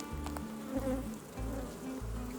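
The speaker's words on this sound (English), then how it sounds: "Look at all these bees." Honey bees buzz steadily around the hive, several droning tones overlapping in pulsing waves, close and continuous.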